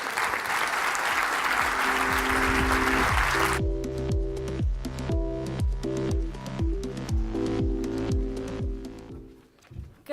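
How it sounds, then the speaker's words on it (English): A conference audience at a precision medicine event breaks into loud, dense applause for several seconds, then the clapping gives way to walk-on music with steady rhythmic beats that fades near the end. "I also want you guys to give her an extra special round of applause"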